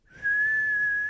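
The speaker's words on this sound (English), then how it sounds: "The boatswain whistle blew," A boatswain's whistle sounds one shrill, sustained high note, rising quickly to full strength and holding steady until the end, clear and alone with no other sound around it.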